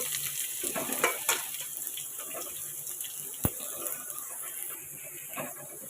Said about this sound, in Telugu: నూనె వేడెక్కాక మనం ఇంతకుముందు కట్ చేసి పెట్టుకున్న ఆనియన్స్ ఉన్నాయి కదా, ఈ ఆనియన్స్ కూడా వేసుకోవాలి